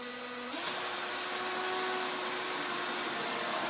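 A power drill drives screws into wood while a dinner table is being built, its whine rising in pitch and holding steady as the screw goes in. The drilling is close and continuous, with no talk over it.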